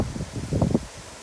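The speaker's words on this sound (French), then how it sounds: "Ça souffle pas mal là, on a un vent de 70 km/h" Strong gusts of wind, around 70 km/h, blow through a vegetable garden in mid-October, making a brief rustling roar that swells in the middle and then dies away.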